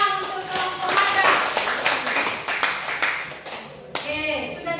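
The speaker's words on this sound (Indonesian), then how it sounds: "tepuk tangan untuk kelompok nada." A school class claps for a group after its presentation, uneven bursts of hand claps rising and falling with voices mixed in among the pupils.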